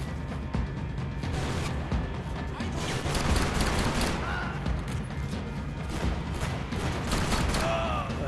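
Dense, continuous gunfire with crashes and booms fills a firefight in the video game Max Payne 3, loud and unbroken throughout.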